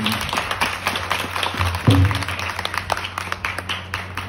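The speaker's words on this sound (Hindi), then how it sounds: "एक बार जोरदार तालियां बजा दीजिए।" Clapping at a Hindu religious katha gathering, with uneven, scattered handclaps over a steady low hum and a brief thump near the middle, moderately loud and irregular.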